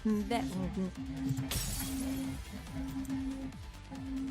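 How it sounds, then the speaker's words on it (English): A wall shattering in the video game Goddess of Victory: Nikke, a sudden loud crash of breaking debris midway through, set over tonal game music and sound effects. "The wall shatters."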